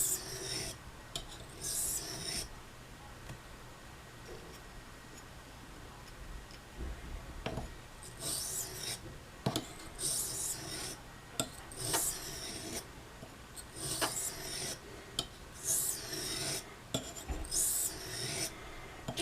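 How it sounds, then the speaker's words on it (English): An Opinel knife blade is drawn across a soft Arkansas whetstone in quiet, repeated rasping strokes that come in uneven bursts, with soft ticks and scrapes between them. "in this case a soft Arkansas will do everything I need it to do"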